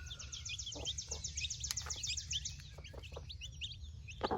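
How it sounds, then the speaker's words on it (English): Barnyard mix chicks peeping in a series of rapid, high chirps over a low rumbling background outdoors on a farm, continuous and moderately close. "These are some pretty chicks. I love barnyard mix."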